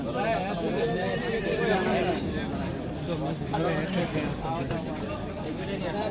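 Horses whinny and neigh at a busy village horse market in Tulsipur, loud and close amid hoof clip-clop and dense crowd chatter, with people talking throughout.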